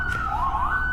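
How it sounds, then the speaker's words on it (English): Police siren passing right outside a window, a single wailing tone sweeping down and back up, steady and fairly close over low rumbling background noise. "There's still sirens, dude."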